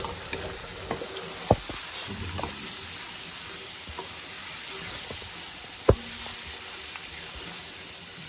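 Green chillies and tomatoes frying in oil for bhindi masala, a steady close sizzle with a few sharp clinks of a spoon against the pan.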